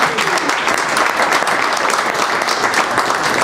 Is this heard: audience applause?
yes